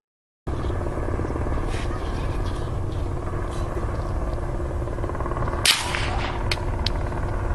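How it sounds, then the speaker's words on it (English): A helicopter drones steadily overhead in an outdoor wooded setting, a loud continuous rotor wash running throughout, with a brief sharp bang and some clattering transients partway through. "Above them, the distinct sound of a helicopter circling can be heard, adding a layer of curiosity to the setting."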